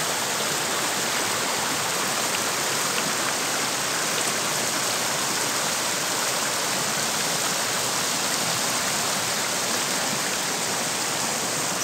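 A mountain river fed by springs below a rocky cliff flows steadily along its bank, a dense, even rushing wash of water that stays constant and fairly loud throughout.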